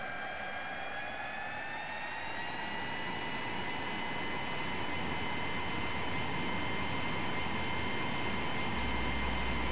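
An L-39 Albatross jet in the FSX flight simulator powers up for takeoff, its engine a steady, loud roar with rising high whining tones that climb continuously throughout.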